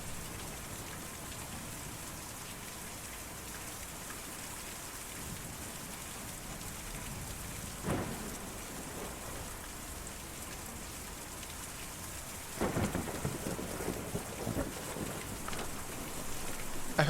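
Steady, dense rainfall patters on surfaces in Kentucky Route Zero, with occasional distant rumbles of thunder swelling through the downpour, no voices present.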